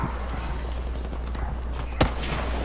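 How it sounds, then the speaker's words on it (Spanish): A single sharp gunshot in the video game Battlefield V, likely a six-shot pistol, cracks once near the end over a low steady hum, with no talk. "Veo disparos por ahí abajo."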